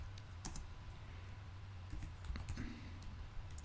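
Scattered computer keyboard shortcut presses while modeling in Blender, a few quiet isolated clicks and taps over a steady low hum, with no talking.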